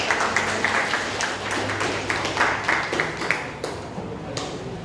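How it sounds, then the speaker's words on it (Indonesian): A class claps during an Islamic religious education lesson, giving brisk, scattered applause that rises and falls over several seconds before thinning toward the end. "Baik sekali, silakan berikan tepuk tangan"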